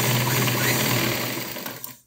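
A sewing machine runs steadily while stitching a diagonal seam across a half-inch tuck in fabric, its close, continuous whir with a low motor hum holding even before winding down at the end.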